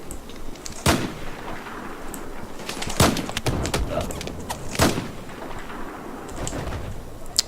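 Gunfire in Battlefield 4, sharp loud shots at irregular intervals with sustained crackling fire and rumbling between them, no speech over it.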